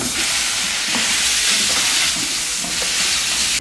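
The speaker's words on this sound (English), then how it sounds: "So first we're going to rinse off the green beans." Running water rinses green beans, a steady loud hiss of spray with faint clatter of the beans shifting.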